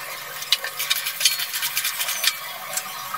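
Raw mango pieces go into a pan of chapila fish curry, bringing a steady sizzle and frying hiss with several short clinks and stirring scrapes from a spoon against the pan.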